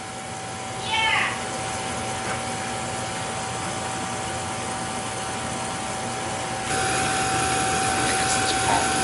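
A Beckett oil burner's faulty pump gives a steady, thin, high whine that holds throughout and grows louder and fuller partway through, with brief chirping sounds early and near the end.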